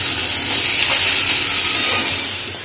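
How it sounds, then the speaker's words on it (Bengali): Crabs fry in hot oil in a pan, giving a loud, continuous, dense sizzle and hiss up close that holds steady and fades slightly at the end. "কাঁকড়া খুব ভালো করে ভাজা হয়ে গেছে।"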